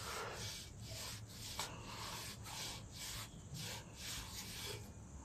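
Steady rubbing of a rusty surface being scrubbed clean, a continuous close scratchy friction with repeated strokes at an even rhythm, alone and without speech.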